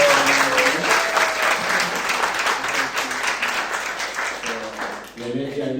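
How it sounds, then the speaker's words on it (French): A church congregation claps loudly for visiting pastors, a thick continuous round of applause that fades toward the end as a voice begins speaking. "on peut les applaudir encore très fort"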